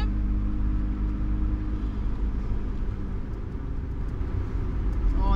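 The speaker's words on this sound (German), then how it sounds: "jetzt fahre ich auf die Autobahn" A car's engine and road rumble drone steadily from inside the cabin as it drives onto the Autobahn, a continuous low hum with no pauses.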